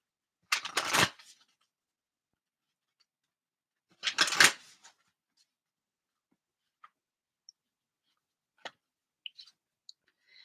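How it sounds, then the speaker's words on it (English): Oracle cards from a Gateway of Light deck being shuffled in two short crisp bursts, followed by a few faint isolated clicks and taps in an otherwise quiet room. "So I'm going to pick a couple cards from the Gateway of Light activation."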